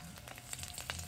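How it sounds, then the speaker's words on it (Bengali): Black cumin seeds and slit green chillies hitting hot oil give a soft, steady sizzle with small crackling pops, faint and close, with no voices. "তেলের মধ্যে দেবো সামান্য পরিমাণ কালো জিরে, 3টে চেরা কাঁচা লঙ্কা দেব।"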